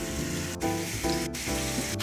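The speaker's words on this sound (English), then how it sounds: "I'm gonna let these sear for about 5-10 minutes, get a nice crust on there." Steak seared in hot oil in a pan, a steady close sizzle and crackle running throughout with a few brief spits and pops.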